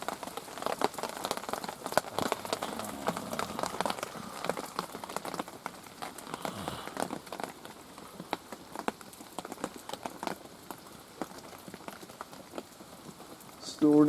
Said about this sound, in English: Still pissing it down with rain.